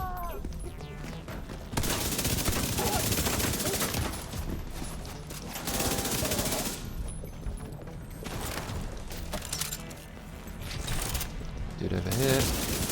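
Rapid bursts from the Backfire exotic submachine gun in The Division 2, loud, dense automatic fire in repeated stretches mixed with mechanical clatter and impacts, with voices talking over parts of it.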